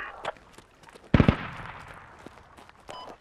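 Mortar strikes in a tactical multiplayer squad video game: one sharp, heavy blast with a short rumbling decay, preceded and followed by faint distant pops.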